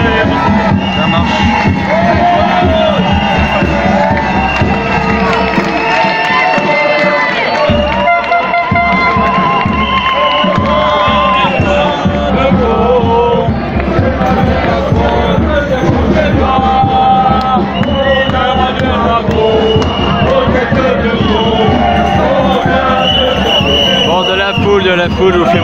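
A street protest crowd in Paris on 17 July 2021, around Port Royal and République: continuous loud crowd noise with shouting and many voices overlapping, people talking nearby throughout.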